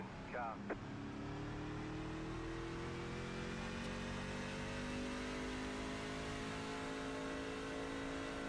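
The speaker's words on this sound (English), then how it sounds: "Look at that pace car fly by." A pace car in the iRacing sim game speeds past, its engine tone rising and then sliding steadily lower across the whole stretch, with a commentator talking over it.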